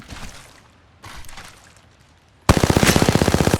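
Gunfire in the shooter game Apex Legends: scattered shots early on, then a loud, rapid automatic burst of evenly spaced rounds near the end.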